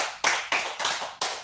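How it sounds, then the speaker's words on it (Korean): Church congregation at a Sunday worship service clapping in encouragement, close and loud, heard as four or five distinct bursts of hand claps in quick succession. "서로를 위해서 응원의 격려의 축복의 박수 한번 할까요?"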